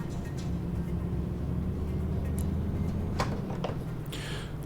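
A truck in Euro Truck Simulator 2 drones along with a steady low engine hum and road rumble, a few faint clicks and a soft whoosh near the end, no talking.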